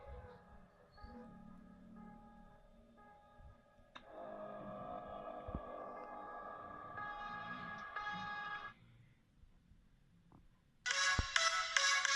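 An electronic phone ringtone plays through a Realme 3 phone's small speaker, a bright melodic tone sequence that shifts patterns, pauses briefly, then resumes louder near the end.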